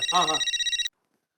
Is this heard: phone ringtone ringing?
yes